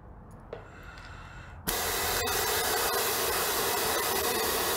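Loud, steady broadband hiss of air purging from a firefighter's breathing apparatus valve, bursting on abruptly after a quieter background and continuing without a break.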